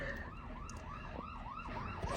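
New fire engine siren switching into rapid yelp mode, quick repeated rising-and-falling whoops heard faintly from a distance while the truck responds.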